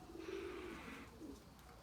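Purebred Erzurum white pigeons, breeding stock, coo in low, soft rolling calls at close range, a steady murmur running through the moment with a second coo near the end.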